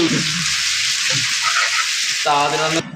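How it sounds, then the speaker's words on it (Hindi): Chicken pieces for shawarma fry in a hot pan with a loud, steady sizzle, and near the end a short burst of speech briefly rises over it. "5 से 6 मिनट चिकन को अच्छी तरह फ्राई करना है।"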